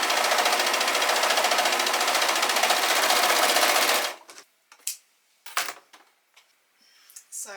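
An overlocker serges the edges of a teddy fleece duvet cover in a loud, even, buzzing run for about four seconds, then cuts off abruptly. A few soft rustles and short handling noises follow in near silence.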